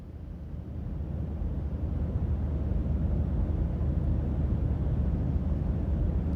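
A recorded airplane sound played for a guessing game at a Sunday morning church service: a steady, broad low roar that swells slightly in the first second and then holds even and continuous, with no talking.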